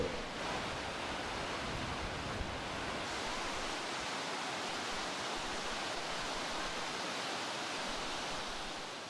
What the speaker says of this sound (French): voici des chutes grondantes de 739 mètres de haut